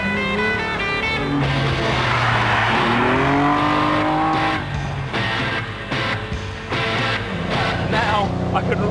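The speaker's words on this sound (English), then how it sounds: "Now I can really enjoy flicking this little sports car around" A lightweight 170-horsepower sports car is driven hard, its engine note climbing and falling through repeated revs and gear changes, loud and close throughout.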